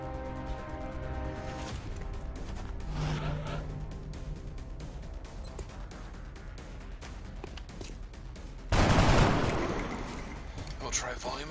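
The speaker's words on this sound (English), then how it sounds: "try volume of fire again." Rapid gunfire rattles through a firefight in the video game Operation Dying Shroud, dense repeated shots running steadily before a louder heavy blast near the end, with a voice talking underneath.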